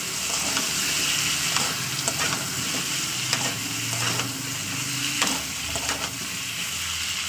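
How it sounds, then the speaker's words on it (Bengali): Cut potatoes are stirred into hot oil with fried fish heads for a red amaranth greens dish, a steady loud sizzle with intermittent scraping strokes of the spatula in the pan, with no voices. "আলুটা দেওয়ার পরে আবার তেলের সঙ্গে ভালো করে মিশিয়ে নেবো"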